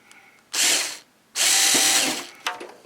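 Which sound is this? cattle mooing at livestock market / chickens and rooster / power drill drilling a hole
power drill drilling a hole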